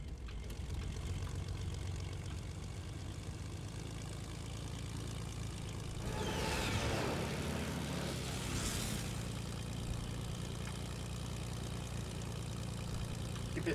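Propeller airplane engine in the Fortnite video game, a steady droning hum running throughout at an even level, with a couple of brief whooshing swells partway through.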